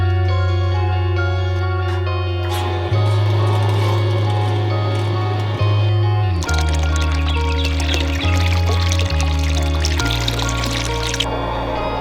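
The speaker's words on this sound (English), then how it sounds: "let's turn the water on and see if we got any leaks" Water rushes into a newly installed farm pressure tank through the plumbing, a loud, steady flow with a strong pitched hum that steps up and down as pressure builds, growing brighter and hissier partway through.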